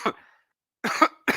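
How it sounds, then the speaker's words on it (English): A single sharp cough bursts out close up, then after a pause a longer, harsher cough and a short third one follow, all loud and clear with no talk over them. "excuse me while I cough real quick"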